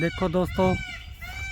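Peacocks call at the Royal Botanic Garden by Jubilee Lake in Daylesford, Australia. A brief, loud honking call rings out over someone talking, then fades to a faint, thin tone.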